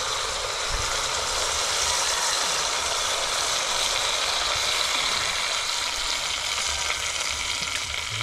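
Vinegar poured into a hot cooking pot, a loud, steady, close sizzle of spitting and crackling that fills the whole stretch without pause.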